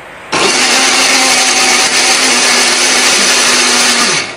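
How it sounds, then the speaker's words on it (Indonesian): Kitchen blender grinding a spice paste with shallots, a loud continuous whirring motor that switches on abruptly and runs steadily for about four seconds before winding down. "Bumbu ini akan kita haluskan menggunakan blender ya."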